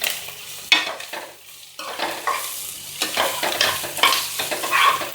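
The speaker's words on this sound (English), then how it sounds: "Stir fry this now, and after 30 seconds to 40 seconds, we'll add on our cabbages immediately" Shredded cabbage stir-fried over a high flame for Indo-Chinese vegetable hakka noodles, with bursts of close, loud sizzling and scraping stirs that come and go in an uneven rhythm, no talking.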